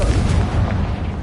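A Confringo fire spell detonating in Hogwarts Legacy, a dense, booming blast with rumbling low end that fills the whole moment, loud and close with no talk over it.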